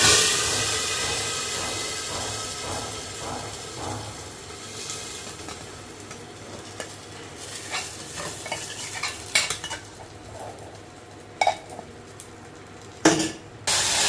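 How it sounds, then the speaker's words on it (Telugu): Hot oil crackles and sizzles loudly as tempering goes in, then settles into a softer hiss with scattered spatters and a few sharp clinks of a utensil. "ఇదిగోండి వేసేస్తున్నాను తాలింపు"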